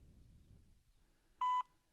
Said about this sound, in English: Just leave a message after the tone, then hang up or press the hash key.